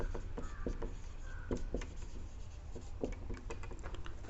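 Chalk or a marker scratches across a board in a lecture hall, in short, steady, irregular strokes over a low room hum, with no voice heard.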